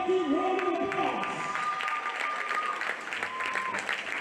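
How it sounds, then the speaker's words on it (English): A large audience applauds steadily for a few seconds, dense clapping that stays loud, with a voice briefly heard at the start. "Let's give everyone a big and mighty round of applause."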